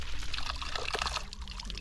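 Water pours steadily from a pipe under good pressure, a continuous splashing rush close by with no pauses and no talk.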